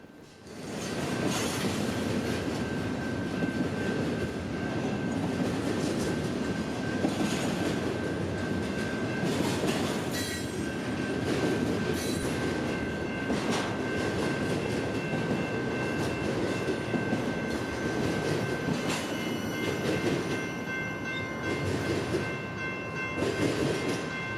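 A freight train with container cars rolls past in the California Central Valley; a steady loud rumble of wheels with faint clicking and squealing that stays constant throughout, no voices.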